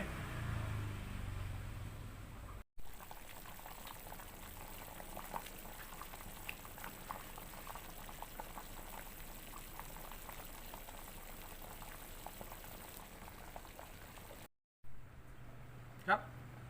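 A pot of old chicken with local herbs boiling steadily, a continuous close bubbling hiss with small pops running throughout, broken briefly by two short cuts to silence.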